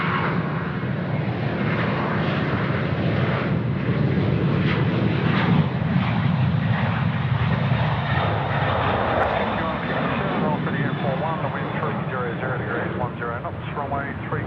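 A Thai Airways airliner moves on the runway at Sydney Airport, its engines a loud, steady broadband roar throughout, with faint radio chatter mixed underneath.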